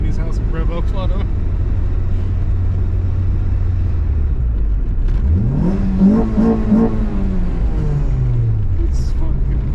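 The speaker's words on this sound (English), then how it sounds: "Drive right by Danny's house and rev up on him." A Type R-swapped Honda Civic EG8 engine drones steadily, then revs up with rising pitch and eases back down, close and loud, with a voice speaking over it.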